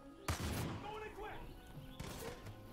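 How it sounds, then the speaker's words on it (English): Gunfire in the Far Cry 5 video game, with a sharp burst of shots early on and another volley near the end, heard faintly beneath game sounds and a voice. "who's doing the shooting?"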